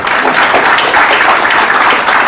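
An audience at a Rhode Island Republican political gathering applauds after a speech, a loud, steady wash of many hands clapping close by, continuous without a break.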